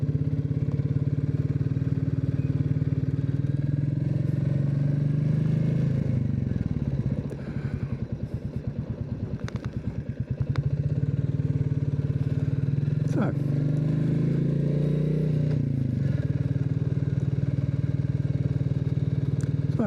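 A Royal Enfield motorcycle ridden on the road, its engine droning steadily and loudly up close with wind noise, dropping briefly to a lumpy thudding idle midway before pulling away again.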